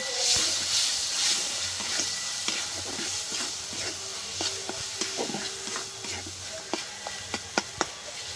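Spices and quail eggs sautéing in a pan with chilli, cumin and coriander powders and salt, a steady close sizzle and hiss with repeated scraping stirs and spoon taps growing sharper toward the end.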